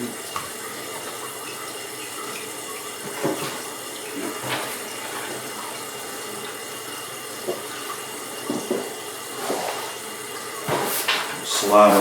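Toilet tank refilling with water during a leaking-toilet repair, a steady hiss of running water with scattered knocks and clunks of handling nearby, growing louder near the end.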